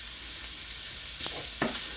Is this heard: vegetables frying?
yes